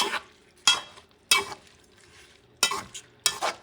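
Creole shrimp with tomato cooks in a pan over medium-high heat, with five sharp stirring scrapes spaced irregularly over a faint, steady sizzle.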